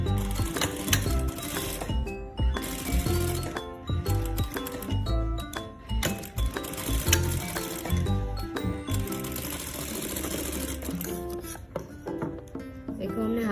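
A sewing machine stitching a princess deep-neck blouse runs in short, uneven bursts with clicky mechanical rattles. Music or other busy sound plays throughout, and no talk is heard.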